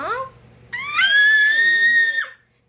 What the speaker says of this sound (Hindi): इतने जोर से कोई नहीं चिल्लाता